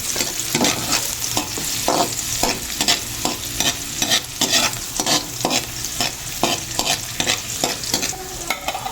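Garlic sizzles with onions in a pan for tuna pasta, a loud steady frying hiss broken by regular rhythmic stirring scrapes.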